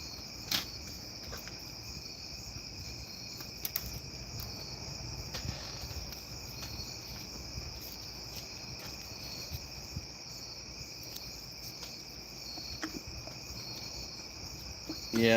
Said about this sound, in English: Yeah, the crickets are noisy,